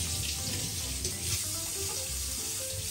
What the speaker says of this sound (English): I'm actually gonna take just a little bit of hot water.